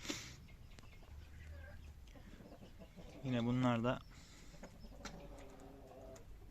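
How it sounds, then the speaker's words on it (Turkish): Silver Wyandotte hens cluck softly inside their coop at dusk, faint scattered calls with one louder squawk partway through, while someone speaks quietly. "Bu kümesimizde silver winedotlarımızın olduğu, 12 tavuğumuzun olduğu bir kümes."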